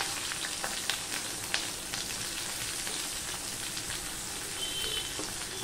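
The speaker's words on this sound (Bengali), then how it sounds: "হয়ে গেলে আমি দিয়ে দিচ্ছি পেঁয়াজ আর রসুনটা" Onion and garlic sizzle in hot oil with black cumin, producing a loud, dense, continuous crackle close by, dotted with small pops and light spatter.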